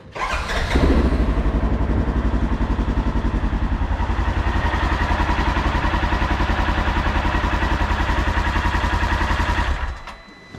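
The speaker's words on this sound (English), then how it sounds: "I'm just gonna fire it up for a second and then we can check the oil." A 2023 Polaris Ranger 1000 XP engine cranks and catches, then idles loudly with a steady, even mechanical throb for several seconds before cutting off, close by with no talk.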